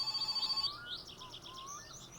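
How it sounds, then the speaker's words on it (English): A telephone rings in the My Summer Car game garage, a bright warbling electronic bell with a fast pulsing rhythm that fades into softer chirping trills, faint and heard alone. "Hopefully that phone shuts up in a minute."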